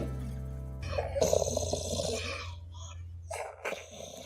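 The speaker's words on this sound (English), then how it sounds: "I hear stuff in your belly." A heavy dog's belly gives off low gurgling rumbles at close range, with soft groaning, shifting noises and muffled handling sounds throughout.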